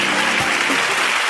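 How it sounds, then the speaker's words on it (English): Audience at a book presentation applauds steadily, a dense continuous patter of hands filling the room without a break. "I heard Gregorians in the house giving themselves a round of applause."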